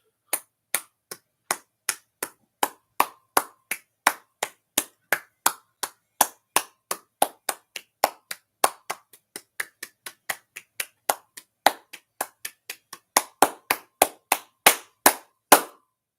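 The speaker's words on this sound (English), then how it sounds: "Let's have a round of applause for Matt the Raven Knox." A single person claps on a podcast, about fifty crisp, evenly spaced slaps in a slow, deliberate rhythm that speeds up slightly near the end, close and dry with no other sound between them.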